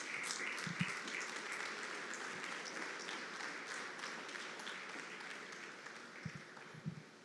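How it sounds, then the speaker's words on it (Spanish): A church congregation clapping at a Christian service, a faint, steady spread of applause lasting throughout, with a few low thumps scattered along the way. "dale un aplauso a Dios"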